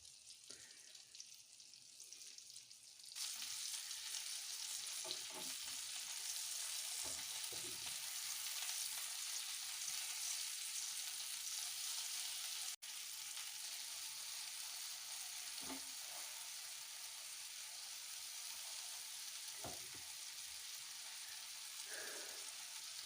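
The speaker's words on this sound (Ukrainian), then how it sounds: "Тепер на середньому огні буду обжарювати." Pork liver frying in a pan over medium heat, a steady broadband sizzle that jumps up loud after a quiet start and holds evenly, with a few soft clicks and scrapes of utensils under it and no talk.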